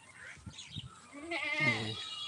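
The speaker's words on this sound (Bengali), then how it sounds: "ছাগল" Goats bleating in an open village field on a rainy afternoon, a few close, wavering bleats following some soft rustling, with no talk.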